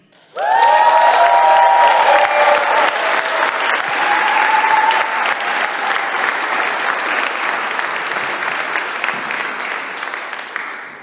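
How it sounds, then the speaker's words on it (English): A large crowd at a startup demo day bursts into loud, sustained applause that starts abruptly and slowly fades over about ten seconds. "So a big round of applause for Kati, please."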